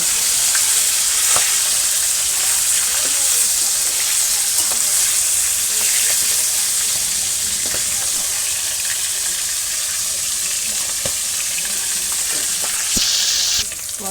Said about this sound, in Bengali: তাই লাল লাল করে ভাজলাম